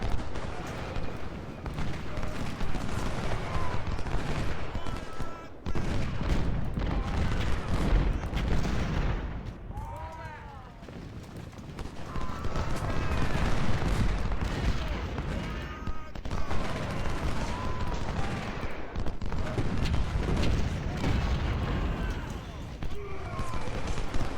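Civil War battle in the Ultimate General: Civil War strategy game at Blackwater River, where artillery booms and musket fire roll on without a break, a dense distant rumble that swells and fades under steady battle noise.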